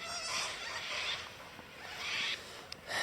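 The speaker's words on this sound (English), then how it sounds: "Nice to wake up to this beautiful bird song" Birds calling at dawn beside an Australian river, bursts of bright chattering and squawking calls in a few loud clusters, fairly close, with no talk.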